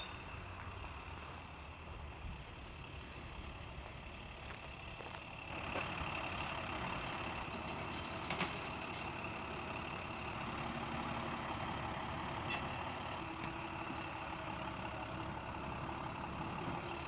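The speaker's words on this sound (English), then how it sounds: "my new 1994 long wheelbase turbo diesel" A 1994 long-wheelbase turbo diesel runs at a steady idle, a constant mechanical hum that steps up slightly partway through, heard alone with no talk.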